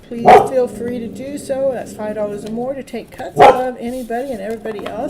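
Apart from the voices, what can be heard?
speaker's dog barking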